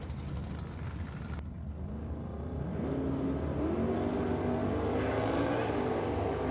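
Drag racing cars, a Chrysler Centura against a Holden Commodore VL427, launching at Sydney Dragway: a distant engine roar swells into loud accelerating drones with climbing pitch, heard from the trackside.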